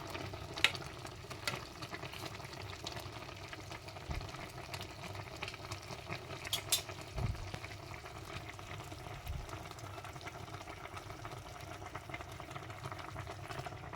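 Vegetables frying in a pan, a steady low sizzle with faint stirring clatters throughout, fairly quiet and close, with no voices.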